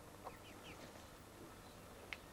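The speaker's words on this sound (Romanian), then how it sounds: "poate n-am mai văzut de mult găini. Îi filmez un pui." Hens cluck softly in a rural farmyard, a few short, scattered clucks over a quiet background with no talking.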